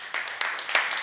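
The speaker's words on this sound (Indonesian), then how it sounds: "Gue tepuk tangan dulu dong." Brief, close hand claps from one person, a few sharp separate claps over about a second.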